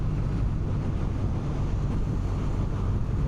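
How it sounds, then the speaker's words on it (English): Steady roaring wind buffets the rider on a 2026 Kawasaki W800 motorcycle with no windshield, a dense continuous rush at road speed with no talking. "Obviously no sort of wind protection here on the W800."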